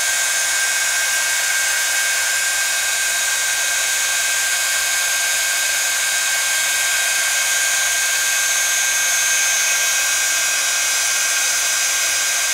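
A heat embossing gun blows hot air in a steady, loud, unbroken whine and rush that never changes, with no talk over it.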